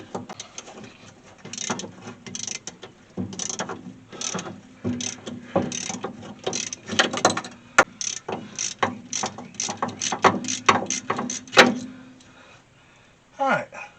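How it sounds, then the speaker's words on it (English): A 1/2 inch socket wrench ratchets in quick bursts of clicking while loosening the front shock absorbers on a 1964 Ford Falcon, close and sharp, with brief pauses and metallic clanks between strokes. "Just take a 1/2 inch socket wrench, just like this."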